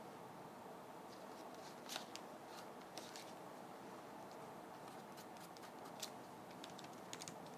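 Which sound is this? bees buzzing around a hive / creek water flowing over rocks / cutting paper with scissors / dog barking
cutting paper with scissors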